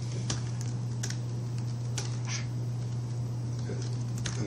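Typing on a Danish keyboard set to a U.S. international layout: a steady patter of close key clicks with irregular spacing over a constant low hum, no talk.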